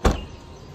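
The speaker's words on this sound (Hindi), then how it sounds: "A Siri, close the door." A car's sliding door or power mechanism closes on a voice command, heard as one close, loud thump with a short rumble that fades quickly into quiet.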